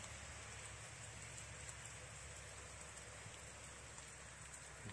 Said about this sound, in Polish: Ładnie pada nam deszcz.